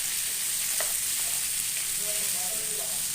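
Ginger frying in a pan for a village-style avarebele mutton sambar gives off a dense, steady hiss of sizzling oil, close and continuous throughout, with a faint scrape of stirring.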